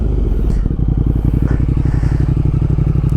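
A Speed Twin motorcycle fitted with a Tec exhaust idles close by, a loud, even train of rapid thumping exhaust pulses with a deep throb that holds steady for several seconds, with no talking.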